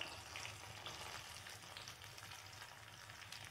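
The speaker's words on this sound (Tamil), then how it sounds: "இப்போ உள்ளி போட்டுக்கலாம்." Chopped garlic frying in a pan for drumstick leaf poriyal, a steady, quiet sizzle with crackling spits that runs evenly throughout, no voices over it.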